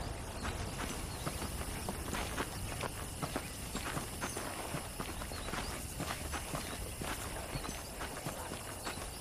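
Horse hooves clip-clop at a walking pace in the Red Dead Redemption video game, a steady run of light, even hoof beats over a constant bed of background ambience.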